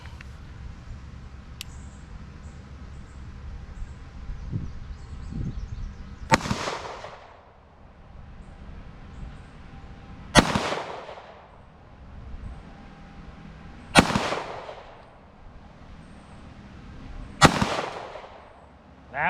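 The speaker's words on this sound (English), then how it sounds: "I've got 5 rounds loaded here. I'm just gonna shoot off this little tiny wobbly wrist." Four loud, sharp single pistol shots from a Fusion Firearms 1911 fired at a target from a wobbly rest, spaced several seconds apart, each cracking then ringing out with a decaying outdoor echo over low ambient noise.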